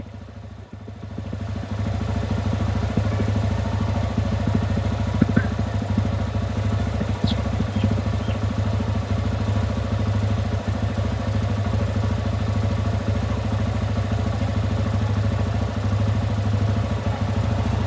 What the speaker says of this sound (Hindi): बाइक स्टार्ट रहेगी इस समय